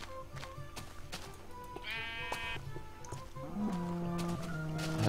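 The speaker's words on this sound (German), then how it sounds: "Hallo Schaf." Sheep bleating in Minecraft, a short wavering game bleat near the middle followed by another lower, drawn-out bleat toward the end, over faint background sounds.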